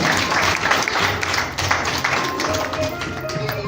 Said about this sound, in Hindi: मोहम्मद अमीन जी के लिए जोरदार तालियां।